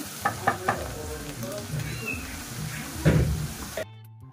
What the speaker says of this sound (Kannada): ಅಲ್ಲಿವರೆಗೂ ಚೆನ್ನಾಗಿ ಹೀಗೆ ಫ್ರೈ ಮಾಡ್ಕೊಳ್ಳಿ. ಇದು ಇನ್ನೂ ಸ್ವಲ್ಪ ಚೆನ್ನಾಗಿ ಫ್ರೈ ಆಗಲಿ.